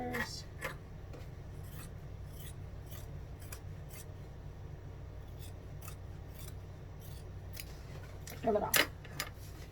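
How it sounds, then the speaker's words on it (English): Scissors snip through the fabric of a fold over clutch, a series of quiet, crisp cuts spaced evenly at close range, with a slightly louder cluster of snips near the end. "I'm just going to take my scissors."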